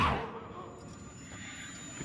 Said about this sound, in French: C'est un Wendigo